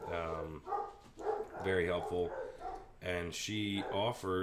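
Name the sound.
dogs barking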